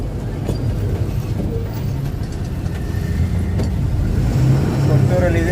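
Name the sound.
vehicles moving at the Kottur fair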